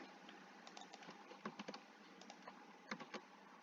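An SQL query being typed on a computer keyboard, a quiet, close run of quick key clicks in uneven bursts, with no talking.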